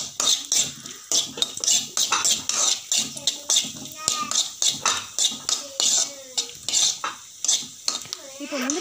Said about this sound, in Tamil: நெய் நல்லா சூடானதும் ஒரு கைப்பிடி அளவுக்கு முந்திரி பருப்பு சேர்த்து நல்லா வறுத்துக்கிறேங்க.